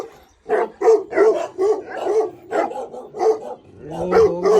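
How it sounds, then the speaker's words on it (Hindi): A dog barks repeatedly at a rural camp outdoors, delivering a string of sharp, close barks in an uneven rhythm with short gaps, ending in a higher yelping whine; no one speaks over it. "वो मेरी तरफ डॉग भौंक रहा है"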